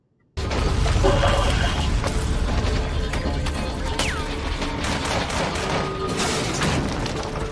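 Sustained gunfire in a military firefight, with dense overlapping bursts and automatic fire going on without pause, a loud, close barrage that fills the whole stretch.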